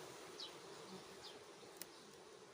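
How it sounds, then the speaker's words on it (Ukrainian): A faint, steady insect buzz of honey bees in a hive fills the space, a dense low hum with a few brief louder passes nearby. "Ну, бачимо в магазині бджоли повно."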